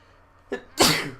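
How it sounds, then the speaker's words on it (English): A single loud, close sneeze: a short sharp intake followed by a forceful burst that trails off. "I'm going to sneeze."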